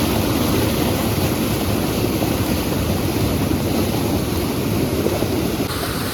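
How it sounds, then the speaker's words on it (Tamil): River water rushes steadily over rocks and small step-like falls at Sivagiri Kombai river, a loud, continuous broadband roar that stays constant throughout with no voices. "தண்ணி எப்படி வருதுன்னு பாருங்க."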